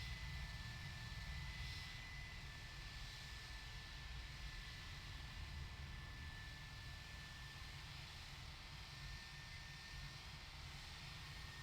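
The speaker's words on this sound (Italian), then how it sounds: "Guarda il Vueling che se ne va." A Vueling Airbus A320 takes off in Flight Simulator X, a steady, loud jet roar with broadband rushing noise that holds evenly throughout, with no talking.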